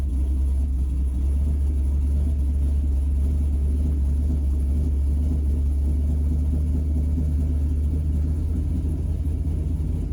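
An LS-swapped OBS truck engine idles high with a deep, steady low rumble, loud and close, holding a constant drone throughout with no voices.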